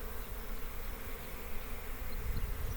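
Honey bees swarming out of their hives on the first cleansing flight of the year in mid-February: a dense, continuous buzz of many insects, fairly loud and unbroken, with no voices.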